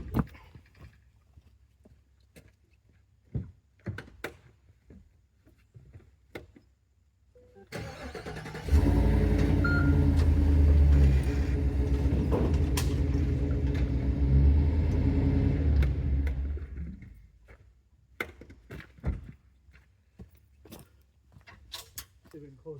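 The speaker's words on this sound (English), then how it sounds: "I'm going to move the truck ahead a little bit" A scrap-hauling truck moving ahead: the engine rumbles loudly for several seconds in the middle, with heavy low drone, preceded and followed by quieter clanks and handling noises outdoors.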